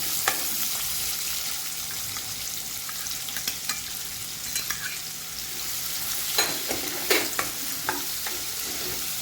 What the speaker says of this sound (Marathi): हिरव्या मिरच्या टाकल्यानंतर त्यामध्ये मी जो कांदा कट करून घेतला होता तो टाकते।